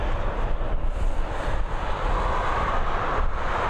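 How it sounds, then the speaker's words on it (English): A Ryanair Boeing 737 airliner on runway 10R at Dublin Airport, bound for Milan, gives off a steady broadband jet roar with a rumbling low end and wind buffeting, sustained and fairly loud at a distance with no talking. "we've got the first of these 3 Ryanairs now ready for departure here at runway 10R at Dublin International"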